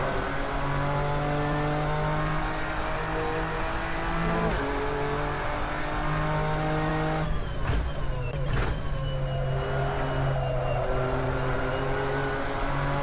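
GT3 race car engine from a free sound mod in Assetto Corsa at Spa in winter, running steady at high revs with a sustained harmonic drone, then sharp shifts and blips around the middle before settling back into a loud continuous roar.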